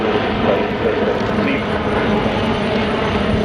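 A retractable-gear helicopter flying at the Farnborough Airshow 2024, a loud steady rotor and engine roar that stays dense and constant for the whole stretch.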